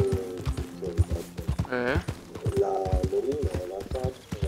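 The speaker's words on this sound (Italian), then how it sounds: "sentivo pure il cavallo" A horse trots in the online mode of Red Dead Redemption 2 on Xbox One S, its rhythmic hoof clip-clops steady and close, with a short whinny midway and a person's voice talking over the game.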